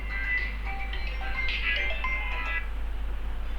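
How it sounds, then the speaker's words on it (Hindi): A mobile phone rings with an incoming call, its electronic ringtone melody playing clearly over a steady low hum, with no talking. "घर से ज़रा फ़ोन आ रहा है।"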